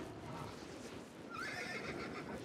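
A horse whinnies in a video game as a player mounts up in a large multiplayer battle. The neigh rises clearly over steady clip-clopping hooves and a busy background.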